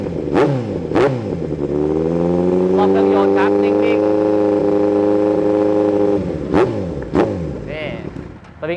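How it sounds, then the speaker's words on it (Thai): A 2017 Kawasaki Z900 motorcycle fitted with an aftermarket NSpec exhaust, close by and loud, gives a few sharp throttle blips, settles into a steady rumbling idle, then snaps out quick revs that rise and fall fast. "เดี๋ยวมาฟังเสียงท่อกัน นี่ รอเดินเบานิ่งนะครับ อัตราเร่งเป็นยังไง นี่ครับขึ้นเร็วลงเร็ว"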